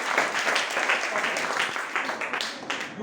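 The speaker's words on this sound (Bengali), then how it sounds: "ইকরাম এবং আরমানের জন্য একটা হাততালি হবে।" Classroom applause for two students during a sixth-grade science practical: a continuous wash of clapping from many hands, moderately loud throughout the few seconds.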